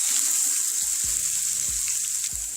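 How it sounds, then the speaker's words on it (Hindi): Ginger garlic paste hits hot oil in a frying pan for tadka dal, giving a loud, continuous sizzle and hiss, with a few soft clunks of a spoon stirring in the pan. "अदरक लहसुन का पेस्ट डालेंगे"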